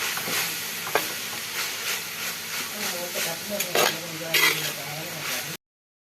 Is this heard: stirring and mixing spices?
yes